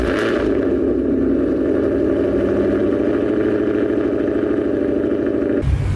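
A Ford Mustang with a resonator-deleted exhaust cold starts and settles into a loud, steady idle, the deep rumble holding close and constant for several seconds before cutting off abruptly.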